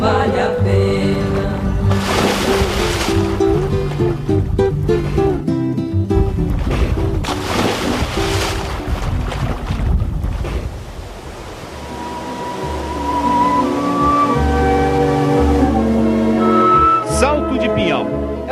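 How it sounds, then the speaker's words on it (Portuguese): The Salto de Pinhal waterfall, a natural river barrier, gives a broad, continuous roar of rushing water, partly masked by music and a voice, and fades briefly midway before swelling again. "Essa cachoeira é uma barragem natural que os peixes não conseguem transpor"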